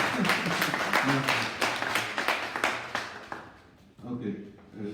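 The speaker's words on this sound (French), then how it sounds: "Applaudissons quand même pour nous." Applause from an audience at a citizens' convention in Geneva, Switzerland, many hands clapping in a lively patter that thins out after three seconds, followed by someone talking.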